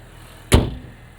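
2025 Honda Civic Hybrid with its 2-liter engine starting on a cold night, a single short, sharp catch at ignition that quickly settles into a low, quiet idle hum.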